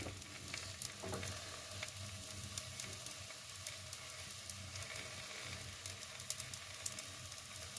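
Patishapta batter for pithe frying in a pan, a steady low sizzle with soft bubbling that stays even and fairly quiet throughout, with no one speaking.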